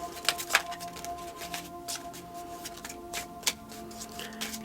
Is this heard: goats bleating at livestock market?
no